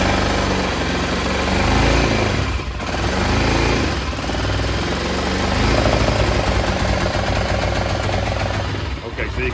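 BMW F650 motorcycle with a faulty voltage regulator idles steadily and loudly up close, its continuous engine rumble slightly rising and falling throughout.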